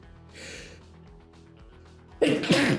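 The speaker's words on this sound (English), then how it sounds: "I have to sneeze." A person sneezes near the microphone, a sudden loud burst at the end after a few seconds of quiet breathing and small mouth sounds.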